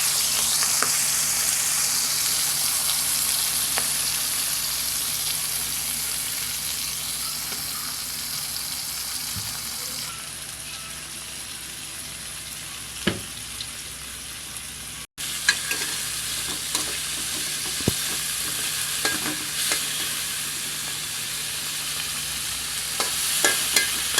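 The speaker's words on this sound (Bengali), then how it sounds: "ওই তেলে আমি মাছগুলো ভেজে নেব।" Shrimp frying in oil left over from frying potatoes and pointed gourd, a continuous close sizzle with occasional stirring clatters and brief sharp pops, steady throughout with a short dropout midway.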